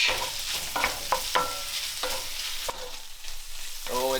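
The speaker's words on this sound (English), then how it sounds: "You want to make sure you're consistently stirring your bacon and, of course, your beans" Bacon and beans sizzle loudly in a frying pan as a utensil stirs and scrapes through them in a series of close, irregular strokes.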